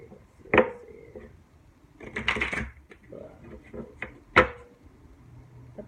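Tarot cards being shuffled in a few short papery bursts, close and moderately loud, with quiet gaps between them.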